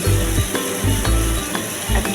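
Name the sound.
onion, tomato, ginger and garlic frying in a pan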